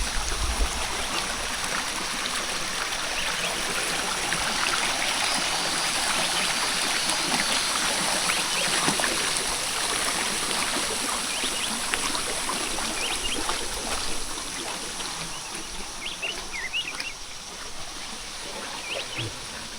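Forest waterfall and clear jungle stream at Pa Fai Na Toe, a steady broadband rush of flowing water filling the whole span at moderate level, with faint bird calls and scattered trickles on top and no talk.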